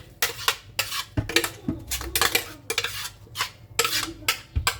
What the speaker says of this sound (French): on laisse cuire bien l'oignon et les carottes. On gratouille.